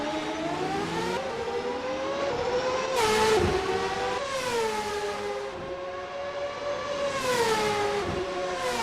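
A 1999 CART race car lapping the Long Beach street circuit in qualifying: a loud, high-revving engine whine that rises and falls through upshifts and downshifts, with brief surges as it passes close by.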